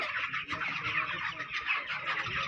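Dense chorus of young chicks cheeping continuously on a 1000-bird poultry farm, about 26 days into the flock, a steady bright chatter filling the space with faint low rumble beneath and no talking.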